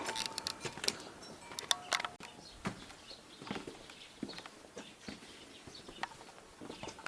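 Faint, irregular hoof clops of free-range cattle walking outdoors in a Nepali mountain village near Jomsom, scattered with soft knocks and a few distant bird chirps.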